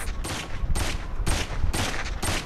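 Rapid bursts of gunfire in the video game Saints Row IV, loud repeated volleys of fast shots separated by brief gaps.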